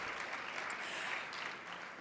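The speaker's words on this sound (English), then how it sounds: "We can clap for that." Soft, even applause from a gala audience at a health heroes awards evening, many hands clapping together in a faint, continuous patter.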